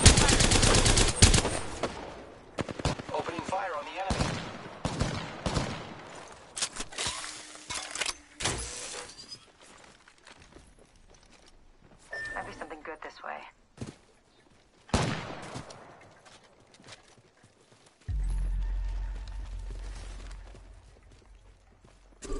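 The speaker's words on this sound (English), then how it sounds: "Opening fire on the enemy." Rapid bursts of gunfire from an online shooter game played on PS4, loud and close at first, then sparser shots under intermittent voice lines, with a steady low drone near the end.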